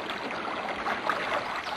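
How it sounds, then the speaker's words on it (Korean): Water trickles and flows steadily from a mountain spring fountain built by villagers, a soft continuous burble with no voices. "더욱 놀랍게도 진짜 물소리가 들려왔다."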